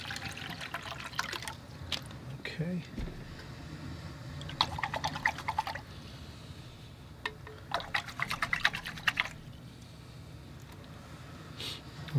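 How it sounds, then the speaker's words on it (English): Bottled water pours and trickles into a painter's rinse container at a watercolor session, a soft, steady splashing that comes in bursts, with a brief spoken word. "I'll use some handy bottled water here."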